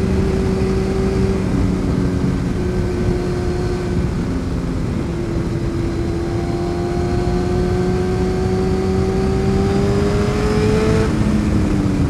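A motorcycle engine drones close by during a road ride, its pitch climbing and dipping as the throttle rises and eases through a bend, loud and continuous with no talk.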